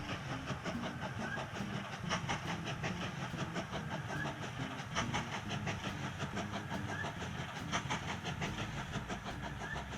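A train from the railway game Mashinky rolls steadily along its rails, with continuous rhythmic clickety-clack and a low running rumble throughout, no voices.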